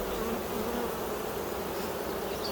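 A honeybee colony in a double nuc, opened for a hive inspection, gives off a dense, continuous buzz that stays close and loud throughout with no talking.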